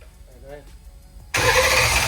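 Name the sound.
ProMod Mustang turbo small-block Ford engine starting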